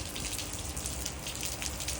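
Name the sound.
rain falling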